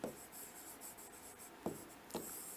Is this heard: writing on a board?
yes